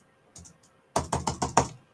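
A computer keyboard gives a couple of light taps, then a quick run of five crisp, close key presses.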